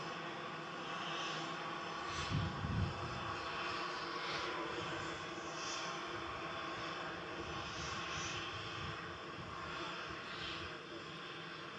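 An EasyJet airliner's jet engines roar steadily in the distance at Manchester Airport, a broad, even rumble that holds through the whole stretch with no voices over it.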